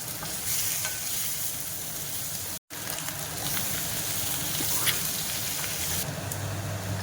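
Potatoes with turmeric and garlic fry in a pan, a steady close sizzle with scraping stirs, broken once by a brief cut of silence.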